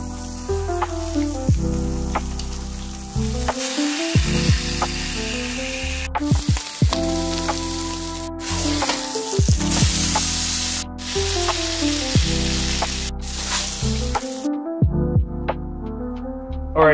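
Strips of bacon sizzle loudly and steadily in a hot pan for a bacon cheeseburger bagel, a dense crackling hiss running the whole time with brief dips.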